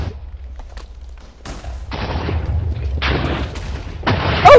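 Cannon blasts in the Party Games 2 video game: a sequence of booming, burst-like shots, with sharp broadband bursts recurring every second or so and growing louder toward the end, heard alone without talk.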